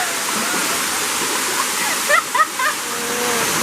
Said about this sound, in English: This waterfall.